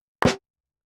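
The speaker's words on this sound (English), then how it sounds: "when you turn off the grid, and you slightly offset the clap and the snare" A layered snare and clap sample, nudged slightly apart off the grid, sounds as one brief smeared crack with a doubled attack, then silence.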